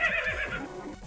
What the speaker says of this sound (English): that's a zombie horse